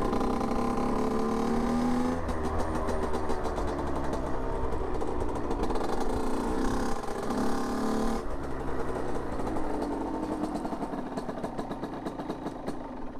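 A 50cc motorcycle engine is held at full throttle and bogs down, giving a rough, sputtering, uneven drone with choked stutters. The sound stays close and sustained, then gradually weakens.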